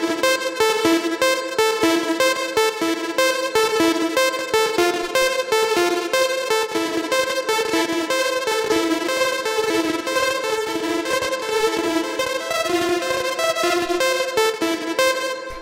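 A looping synth lead at 122 BPM for a Willaris K-style electronic track, repeating a bright, rhythmic melodic phrase steadily and loudly throughout, with no voices.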